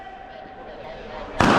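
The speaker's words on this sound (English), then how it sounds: "I'm gonna throw a grenade right there on him." An airsoft grenade bursts with a sudden loud, sharp pop at the very end, preceded by a short stretch of quiet background noise.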